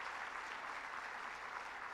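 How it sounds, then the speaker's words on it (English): Sustained applause from a gala audience honoring award recipients, dense steady clapping that fills the room evenly from start to finish with no voices standing out. "Let's give them a round of applause and thank them for their extraordinary work."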